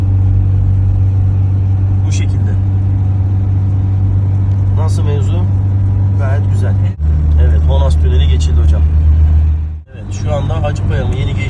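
A Tofaş Şahin car engine hums at a steady, low drone at half throttle around 90 km/h, heard from inside the cabin, with someone talking over it throughout.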